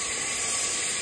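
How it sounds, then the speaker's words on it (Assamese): Meat sizzling in a dry cooking pot, a steady, loud, close hiss that runs unbroken for about a second. "প্ৰথমতে ইয়াৰ শুকান চৰুতে মাংসখিনি দিছোঁ।"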